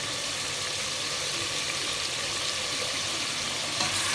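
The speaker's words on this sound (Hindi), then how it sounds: "थोड़ा सा डाल लेते हैं कढ़ाई मसाला, और इसकी कर लेते हैं बुनाई।" Meat and bitter gourd (karela) frying with kadai masala in a wok, a dense, even sizzle close up and continuous, with faint stirring scrapes and no speech.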